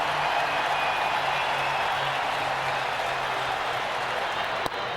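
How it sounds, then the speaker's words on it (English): Steady crowd noise fills a baseball stadium at a Giants vs Phillies game, a continuous broad roar of cheering and applause that holds at a fairly loud level, with a single sharp crack near the end. "And the crowd gets louder"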